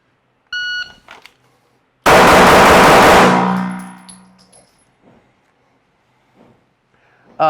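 A single loud gunshot cracks at a shooting range, its blast ringing out and decaying over about a second, preceded by a short electronic beep from a shot timer.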